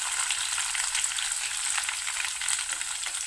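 Curry leaves and green chillies frying in a pan for an orange-peel curry, giving a steady, close, continuous crackling sizzle with no talk.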